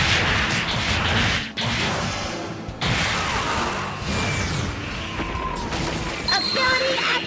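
The Typhoon Explosion ability effect in a Bakugan battle arena video game bursts out as dense booming crashes and rumbling blasts, followed by sharp metallic rings and pops, loud and continuous throughout.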